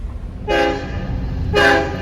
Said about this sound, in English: The Long Island Railroad runs west to east and east to west on Long Island.